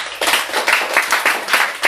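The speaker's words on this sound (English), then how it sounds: "Let's give a round of applause" Clapping from a small audience after a request for a round of applause at a learning presentation, a few people clapping in loose bursts, fairly near, with no talk over it.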